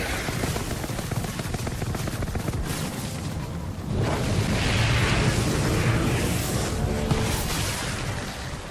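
Explosions from the explode-enemies ability in the Outriders video game: a dense roar of blasts and crackling gunfire-like bursts, swelling louder midway and staying heavy and continuous with no voices.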